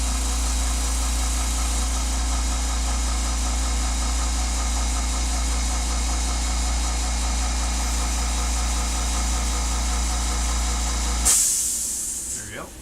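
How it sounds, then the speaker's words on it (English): Air compressor running with a steady loud hum and deep low drone, a constant hiss layered above, then a sharp burst of released air as it shuts off and fades. "waiting for the compressor to stop"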